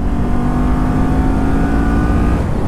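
A 2019 Kawasaki Ninja 400 motorcycle pulls away at full throttle, its engine loud and strained in a rising, sustained roar within an industrial park.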